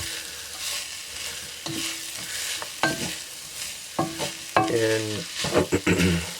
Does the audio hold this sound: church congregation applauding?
no